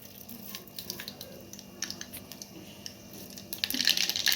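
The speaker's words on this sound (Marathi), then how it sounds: "मोहरी तडतडली" Mustard seeds crackle and pop in about a spoonful and a half of hot oil in a pot, scattered light ticks building into a denser sizzling burst near the end.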